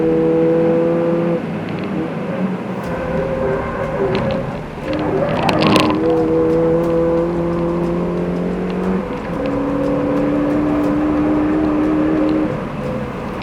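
A car engine hums and shifts pitch as it drives steadily around a race track during brake testing, with revs rising and falling and a brief clatter midway; no voices.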